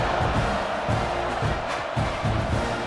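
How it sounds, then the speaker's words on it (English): A stadium crowd at a Mississippi State vs. Texas A&M college football game keeps up a continuous broad roar with low rumbling swells, loud and enveloping. "this crowd is buzzing after that last score"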